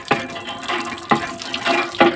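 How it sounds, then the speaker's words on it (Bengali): Water running from a tap while feet are washed outdoors after walking through mud, with several rushing splashy bursts at a steady, close rhythm and no talk. "দেখো এই যে কল টেনে টেনে পা ধুচ্ছি"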